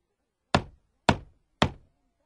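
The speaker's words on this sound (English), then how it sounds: "He knocks on the door of Grandma's house." Three evenly spaced, sharp knocks on a wooden door ring out close and crisp, each with a short hollow decay, against otherwise complete silence.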